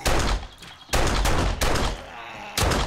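Gunfire in the survival horror game 7 Days to Die (Alpha 19) rattles out in loud, dense bursts, with several back-to-back volleys separated by brief gaps and no clear talk over them.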